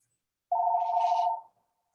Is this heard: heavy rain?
no